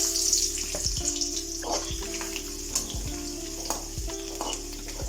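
Dried chillies, curry leaves and garlic sizzle in hot oil, a steady close crackle broken by repeated scraping and stirring strokes in the pan.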